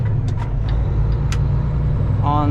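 A Canada Post delivery van accelerating in the curb lane beside a stopped vehicle, heard as a steady low engine rumble and traffic noise with a few brief higher squeaks and a short tonal whine near the end.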